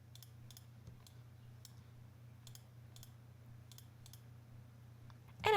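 A computer mouse clicks repeatedly while editing in Photoshop, crisp single taps at uneven intervals over a low steady hum, close and fairly quiet.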